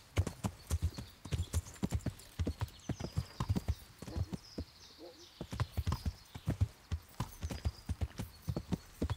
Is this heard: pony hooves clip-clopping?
yes